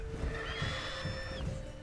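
Horse whinnying in The Witcher 3, a single drawn-out neigh with a high tonal wail that rises and holds before dropping off, heard fairly close over a steady low game rumble and faint hoof-like thumps.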